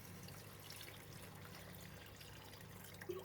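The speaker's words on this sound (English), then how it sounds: "Add in 1 liter of water" Water pours steadily into a pan of browned pork belly for a coconut curry, a faint, continuous trickling splash heard alone with no talk.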